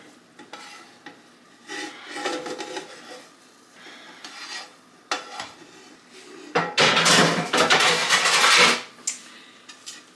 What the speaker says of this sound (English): now I'm going to stir up all 5 pounds so that onion's more evenly distributed with the burger